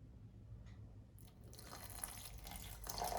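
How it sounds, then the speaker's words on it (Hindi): Water pours from a container into a protein shake mix, a faint splashing trickle that grows louder toward the end, close up and with no talk. "तो अपन इसमें थोड़ा पानी ऐड कर देते हैं"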